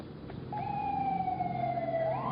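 A police siren wails close and loud, rising and then holding a steady tone over low traffic rumble, with no one speaking.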